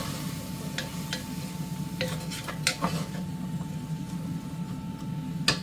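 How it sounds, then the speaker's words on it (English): Spring onion and leek being stirred in a pan, with scattered utensil scrapes and clinks over a soft, continuous sizzle and a faint steady hum. "Give that a bit of a stir."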